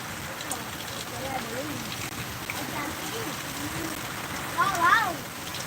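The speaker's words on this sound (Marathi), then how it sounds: "पाऊस चालू आहे हवासुद्धा जोराची चालू आहे" Heavy rain driven by strong wind in Mahagaon, Kinwat taluka, Nanded district, near a highway during a power cut: a steady, dense roar of rainfall and gusts throughout, with faint voice-like tones surfacing briefly near the end.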